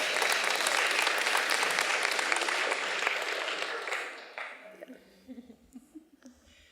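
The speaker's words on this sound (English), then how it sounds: "Can we give her a round of applause for that?" Audience at a panel event giving a full round of applause, loud and sustained for about four seconds, then thinning into scattered claps and murmuring voices as it dies away.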